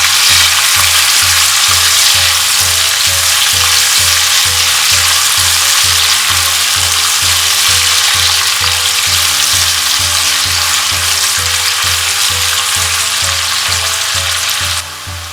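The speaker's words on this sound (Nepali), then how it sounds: "प्याज राखेपछि मैले थोरै नुन राखेँ। अब यसलाई चलाइदिउँ।" Onion with a little salt fries loudly in a pan for a cauliflower and paneer dish, a strong continuous sizzle with a fast, regular rhythm of stirring strokes, fading slightly at the end.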